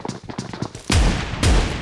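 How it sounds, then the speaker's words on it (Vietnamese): Gunfire in the PUBG Mobile video game: a few quieter, distant shots, then two loud, close booming reports about half a second apart. "Có súng rồi kìa, đang bắn nhau."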